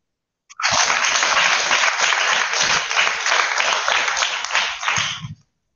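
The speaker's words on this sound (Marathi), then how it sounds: "सगळ्यांनी टाळ्या वाजवायच्या तिच्यासाठी." Children applauding together at a kids' space-facts discussion session, a sustained burst of dense clapping lasting several seconds, starting suddenly and fading out at the end, fairly close and loud.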